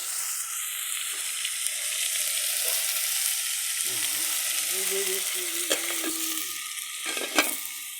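Onions fry in a pan while being stirred, giving a steady, even sizzle close by, broken near the end by a couple of soft scrapes and taps.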